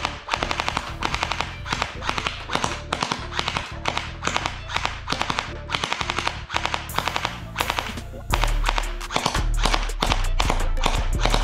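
A gel blaster fires gel balls at small targets about 10 feet away in rapid bursts of sharp snapping shots, loud and close, with brief pauses between volleys and a steadier mechanical buzz near the end.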